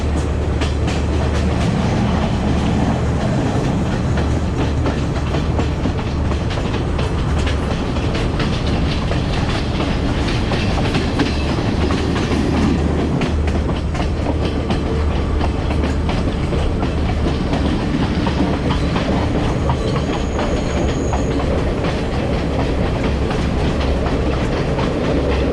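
A train runs along a mountainside with a valley below, its wheels clattering and rumbling loudly and continuously, with a steady clickety-clack throughout.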